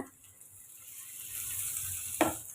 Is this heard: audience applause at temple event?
no